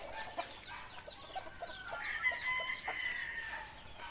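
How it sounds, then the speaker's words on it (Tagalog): Native chickens in a coop, with a rooster crowing and hens clucking close by in several short calls spread across the moment, over a steady background hum. "At dito tayo sa ating mga manukan"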